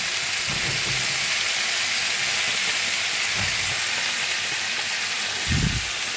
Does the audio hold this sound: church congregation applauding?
no